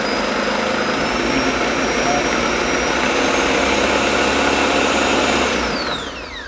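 A Ninja Professional Blender 1000 running on its low setting, a loud, steady whirring motor drone close by that holds for several seconds, then drops in level near the end.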